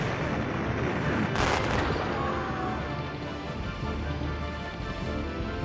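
A shrapnel missile fired from a mech in the PS2 strategy game Ring of Red, a loud burst of blast and rumbling explosion noise with a sharp crack early on, then a sustained roar that slowly fades.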